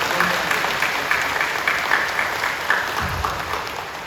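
Congregation applauding during a Korean church worship service, a steady wash of many hands clapping at moderate distance, even and continuous without standout voices.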